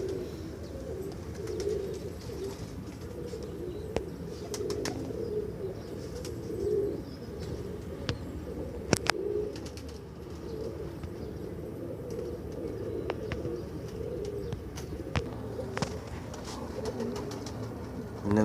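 Pigeons coo steadily at a pigeon market in Multan, a soft low rolling murmur from several birds with occasional chirps and brief wing flaps, under faint background noise.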